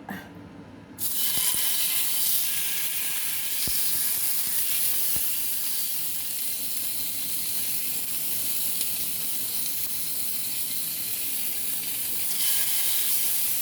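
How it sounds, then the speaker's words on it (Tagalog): Frozen fish dropped into a hot pan, bursting into a loud, steady sizzle and hiss that holds for over ten seconds, with a few faint clicks and pops underneath. "Mainit na po ang ating pan. So, ilagay na po natin ang ating isda."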